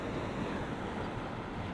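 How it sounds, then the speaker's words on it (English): Rushing water pours through a sluice gate, a steady, dense broadband roar with no other sounds over it. "rushing water down there"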